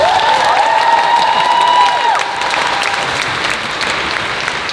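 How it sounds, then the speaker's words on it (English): An audience at a Q&A session breaks into applause, a dense burst of clapping that swells, then thins slightly while a whistle-like tone sounds over it early on. "how many spontaneous rounds of applause did Kevin get"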